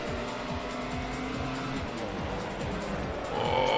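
A Ferrari race car roars past in the PS2 racing game Grand Prix Challenge, a loud, sustained engine whine with shifting pitch and a brief tyre squeal as it overtakes.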